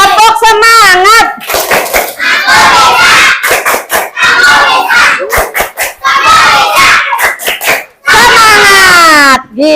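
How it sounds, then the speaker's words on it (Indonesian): Pupils in a classroom lesson shout the tepuk semangat chant together, punctuated by quick rhythmic hand claps, loud and close, with gaps between bursts. "Coba tepuk semangat."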